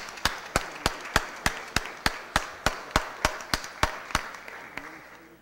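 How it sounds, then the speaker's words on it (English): Rhythmic clapping at a Board of Aldermen meeting, with sharp, evenly spaced claps of steady tempo ringing through a quiet room, sounding like a few people rather than a full crowd. "Join me in giving them a big round of applause"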